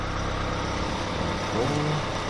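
A Kia All New Sorento Prestige 4WD engine comes to life at the push of a start button, a low idle hum settling in partway through amid steady background noise.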